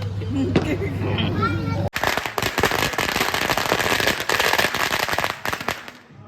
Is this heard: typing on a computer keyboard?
no